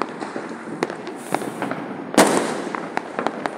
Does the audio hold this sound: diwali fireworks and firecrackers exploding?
yes